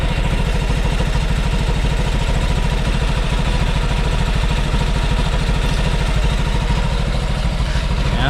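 A Yamaha Mio i 125 pit bike engine idles steadily on a cold start, a close, loud, even mechanical putter with a constant low throb and clatter throughout, no voices.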